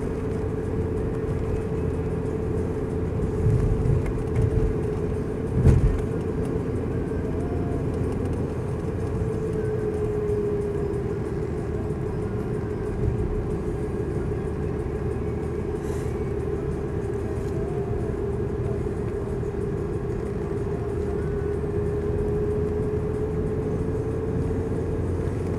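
A 1.9-litre BMW 318iS coupe is heard from inside while being driven, with a steady engine drone and road rumble holding at a constant pitch throughout.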